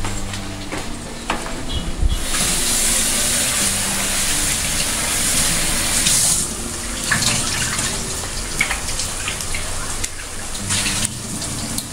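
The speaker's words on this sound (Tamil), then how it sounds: "சிக்கனை ஒருத்தரா மட்டும் அப்படியே கழுவிட்டு வந்துடுறேன்." Raw chicken is rinsed under a running kitchen tap, with a steady gush of water and occasional splashing and handling noises, close and fairly loud, swelling and easing over several seconds.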